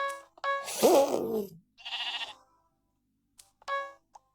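Sheep bleat in the Minecraft video game, a few short, loud cries with quiet gaps between them, mixed with brief tonal game blips.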